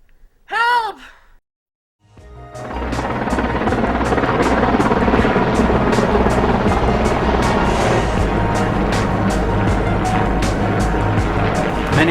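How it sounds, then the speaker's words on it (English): A helicopter flies overhead during a search, a loud, steady rotor roar with rhythmic blade chopping that holds for about ten seconds after a brief human vocal sound and a moment of silence. "Many times helicopters are used in searches."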